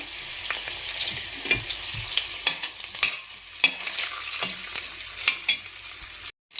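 Ginger, green chili and garlic shallow-fry in a pan, producing a loud, close sizzle with repeated spatula scrapes and stirring knocks, then a sudden brief cutout near the end; no one speaks.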